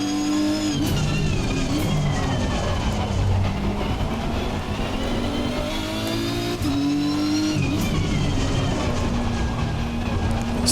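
Race car engine lapping the Nordschleife in Assetto Corsa Competizione, a loud steady drone with rising gear-pull harmonics, two sharp upshifts and a slight tire squeal, close and continuous with no talk.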